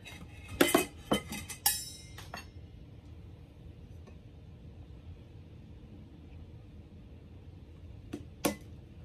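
A plastic lid clicks onto a tumbler and a strap is fitted, giving a few sharp clinks and knocks early on, then quiet handling and two more taps near the end.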